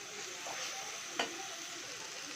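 Chilli powder and turmeric sauté in a pan of Bombay sambar, giving a steady, close hiss of sizzling with one brief clink partway through.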